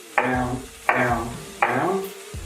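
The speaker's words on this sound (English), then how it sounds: "And you have some nice chopped onions." A knife chopping onions on a cutting board, three firm separate strokes roughly three-quarters of a second apart, each a sharp close knock followed by a short crunchy slice, with a fourth starting at the end.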